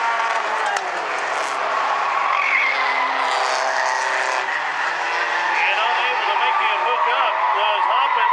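Bumblebee division race cars running a green-flag lap at South Sound Speedway, engines droning steadily with tire noise, under continuous race-announcer commentary.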